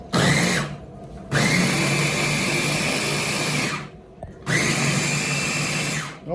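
A blender whirs loudly through hot sauce ingredients in three long bursts, each starting abruptly with a rising motor whine and cutting off between runs.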